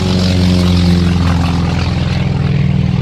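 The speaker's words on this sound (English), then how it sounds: "Next we had a T28 Trojan with its fantastic Wright Cyclone" A T-28 Trojan trainer with a Wright Cyclone radial engine roars past at an airshow, a loud, steady, throbbing propeller drone filling the whole stretch without pause.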